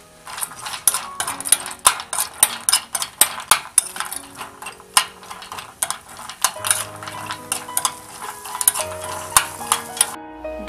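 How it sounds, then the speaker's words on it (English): Chopped cashews, almonds and raisins frying in leftover butter in a pan, a soft sizzle punctuated by frequent sharp clicks and scrapes of a utensil against the metal. "Let's fry the dry fruits in leftover butter in the pan."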